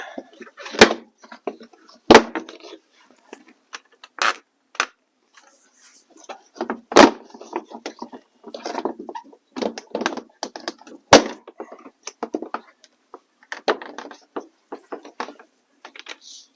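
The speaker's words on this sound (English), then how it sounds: "I'm just using my knuckles to kind of pry out on the door panel" Plastic clips on the rear door panel of a 2022 Honda Civic being pried loose by hand, giving a string of sharp pops and cracks at irregular intervals with softer rustling and creaking of trim between them, close and fairly loud.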